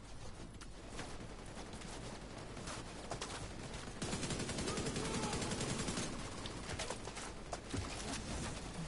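Machine gun fire in The Division 2, steady bursts of distant-sounding shots over a busy battle backdrop, swelling louder midway before settling back.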